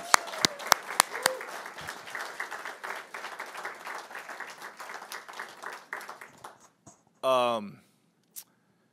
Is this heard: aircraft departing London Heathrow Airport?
no